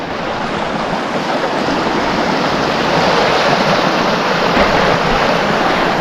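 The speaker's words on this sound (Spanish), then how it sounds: "Con este sonido del agua, un buen cafelito, esto es la gloria bendita." Continuous rushing water beside a campsite, a steady broad roar like a stream or surf that swells slightly halfway through, close and alone with no talking.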